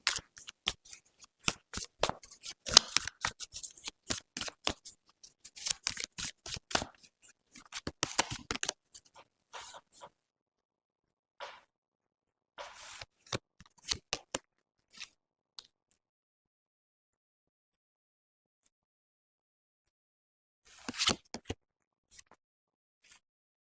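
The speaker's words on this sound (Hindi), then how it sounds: "सबसे पहले हम कार्ड्स पुल आउट करेंगे।" Tarot cards being shuffled and handled in bursts of quick riffling and flicking, with pauses between; fairly quiet and close, no talking.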